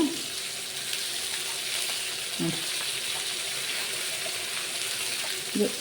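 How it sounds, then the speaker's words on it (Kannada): Fish pieces frying in hot oil in a pan after being flipped, giving a steady, close, even sizzle with a few faint clinks of utensils. "ಇಷ್ಟೇ ಹೊತ್ತು ಇನ್ನೊಂದು ಕಡೆಯೂ ಕೂಡ ಫ್ರೈ ಆಗಬೇಕು"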